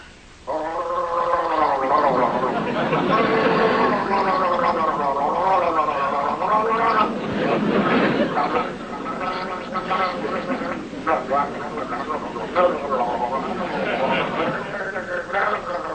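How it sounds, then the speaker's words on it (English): A man gargles loudly and theatrically in a comedic radio play, a long bubbling, warbling throat sound with changing pitch that runs almost without a break, up close and dominant. "Any normal person would gargle quietly"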